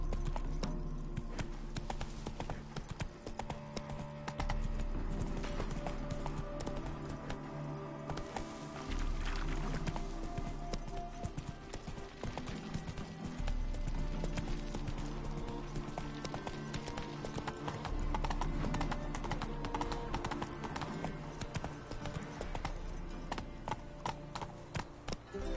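Roach the horse galloping in The Witcher 3 on PS5, rapid rhythmic hoofbeats clip-clopping steadily over game music, loud and close throughout.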